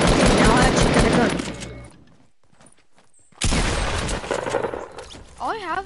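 Video game gunfire comes as loud, dense bursts of rapid shots, then a quieter gap, then another heavy burst with a voice talking briefly near the end.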